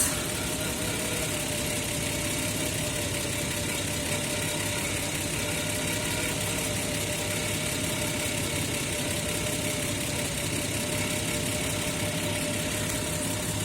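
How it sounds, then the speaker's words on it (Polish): A 1992 Nissan Patrol with a 4.2-litre petrol six-cylinder engine, converted to LPG and not yet well tuned, idling steadily on gas, a constant close mechanical hum and whir with no talking. "Jesteśmy w patrolu to są jego wolne obroty teraz. Oczywiście jesteśmy na gazie."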